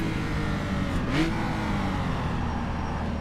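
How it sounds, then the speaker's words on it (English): A historic race car at the Longford road racing championship, heard from onboard as the engine blips and revs during a downshift to first gear, a steady loud engine drone with a brief rising rev swell in the middle. "A little bit late on the downshift to first"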